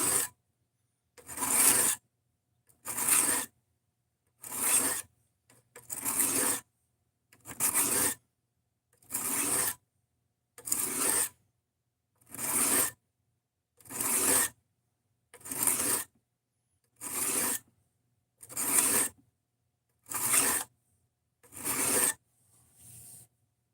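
A knife blade is drawn across a cheap $7 Harbor Freight sharpening block in about sixteen evenly spaced rasping strokes, each a close, scratchy grind separated by brief silences.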